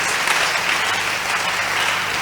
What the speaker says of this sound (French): Jam your hands for Jesus.